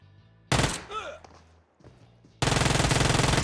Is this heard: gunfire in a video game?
yes